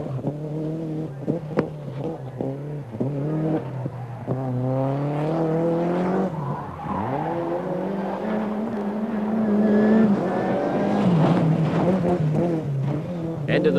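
A 1989 RAC Lombard Rally car driven hard around the twisting Silverstone circuit, its engine revving up and down through gear changes with tire noise, loud and close, under a commentator's voice.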